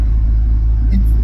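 Suzuki Grand Vitara with a 2.4L engine and manual gearbox accelerating in gear, a loud, steady low engine drone from inside the cabin with no speech.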